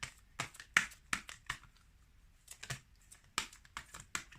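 Tarot cards being shuffled close up, with quick crisp riffles and soft slaps coming in short irregular bursts separated by brief quiet gaps.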